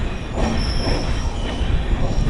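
The Hampi Express pulls into Annigeri station, its wheels squealing with a high steady metallic whine over loud rumbling railcar noise, heard from inside the train.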